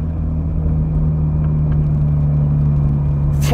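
Ferrari 430 Scuderia V8 with a Capristo exhaust, heard from inside while cruising toward town: a steady, loud low engine drone with a constant hum, ending in a brief burst of higher noise.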